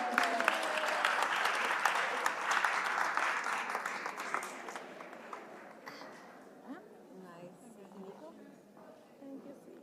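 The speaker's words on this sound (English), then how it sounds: "give yourself a round of applause" An awards-gala audience at a women's excellence event breaks into loud applause that gradually fades over several seconds, with talk and scattered voices continuing beneath and after it.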